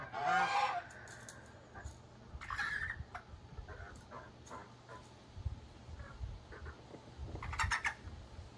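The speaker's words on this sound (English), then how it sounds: "The geese are staying in the corner, folks, because I've got the hose." Several geese honk and squawk nearby at feeding time, calls overlapping in bursts over a low background rumble.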